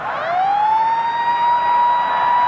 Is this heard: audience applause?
no